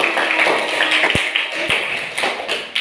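Group applause from a primary school classroom, a steady dense clatter of many small hands clapping together, with a couple of sharper taps standing out near the middle.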